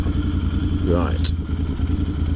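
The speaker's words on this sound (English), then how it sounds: "I'll leave the motor running for a moment." A Royal Enfield 650 Interceptor idles with a steady low, throbbing engine hum. A brief clatter and a short high tone sit over it, and a rider speaks nearby.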